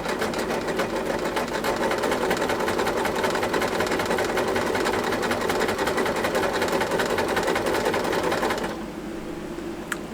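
A sewing machine stitches quilt pieces together in a loud, steady, fast mechanical whir and patter, running continuously close by before stopping abruptly near the end, leaving a quieter hum.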